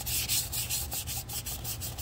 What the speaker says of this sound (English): Now I've gotten a fresh, clean piece of sandpaper,